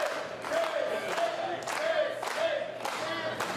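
Wrestling crowd at the Gas Monkey venue, a steady roar with rhythmic rising bursts of cheering and chanting, recurring about every half second to a second, fairly distant.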